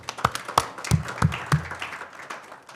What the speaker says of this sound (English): So to Amitava and Ravi, a big round of applause too.